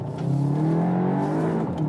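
VW Arteon R Shooting Brake pulling away in first gear out of a hairpin corner, its engine note rising steadily and loud, heard close with no talk.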